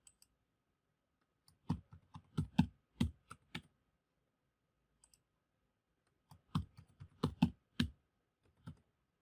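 Someone types a password on a computer keyboard, two separate bursts of quick, crisp key clicks with a brief quiet pause between, close and alone.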